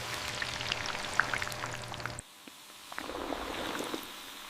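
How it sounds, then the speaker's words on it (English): Instant noodle dough sizzles and bubbles in 150-degree palm oil inside a factory fryer, a dense crackling patter of pops that drops away for a moment and then resumes. "This violent bubbling is actually water escaping from the dough"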